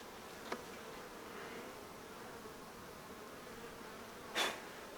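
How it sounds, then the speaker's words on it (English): A wasp buzzes near a beehive during hive inspection, a steady faint insect drone throughout with two brief louder passes close by, one early and one near the end, with no talking. "That wasp's back again."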